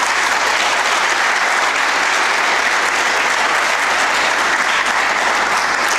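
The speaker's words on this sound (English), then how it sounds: "Please clap for the teachers." A large audience applauds the teachers at a school speech and STEM event, loud continuous clapping of many hands that fills the whole stretch evenly.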